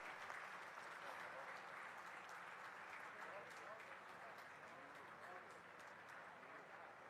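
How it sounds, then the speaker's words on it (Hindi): An audience at a hospital's 25th anniversary ceremony applauds to honour a senior doctor, a dense, steady wash of clapping that lasts several seconds, heard at a distance in a hall. "ऐसे वरिष्ठ व्यक्ति का जब सम्मान हो तो आप सबकी तालियों में बिल्कुल भी कमी नहीं आनी चाहिए"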